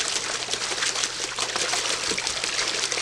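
A breeding duck in a warm bath of about 90-degree water, with a steady bright trickling and splashing of water filling the whole stretch, close and constant.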